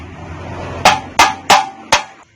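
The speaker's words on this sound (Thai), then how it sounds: "ตอกเข้าไปเลยนะตอกประมาณนี้นะตอกเข้าไป" Four sharp, loud hammer blows drive a fitting into a hole for electrical conduit, done by hand without power tools, struck at a quick, slightly uneven pace with a brief ring after each hit.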